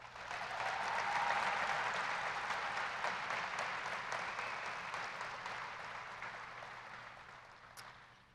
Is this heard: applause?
yes